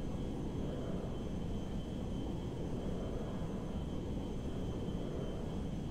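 An airplane in GTA 5 flies in for a landing, its engine a steady, full-bodied roar with a faint whine held throughout, loud and unchanging, with no speech over it.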